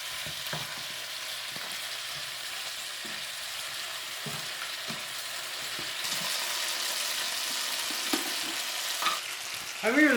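Pork riblets with chili paste sizzle steadily in a pan as they're stirred, a continuous frying hiss broken by occasional scrapes and knocks of the utensil, with no talk.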